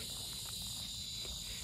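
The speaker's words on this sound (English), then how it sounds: "That's literally cicadas." Cicadas in Homosassa, Florida, droning as a continuous high-pitched buzz that fills the outdoor air throughout, steady and fairly faint, with soft low rustling beneath.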